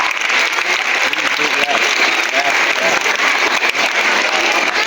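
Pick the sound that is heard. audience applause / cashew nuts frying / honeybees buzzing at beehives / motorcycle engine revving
audience applause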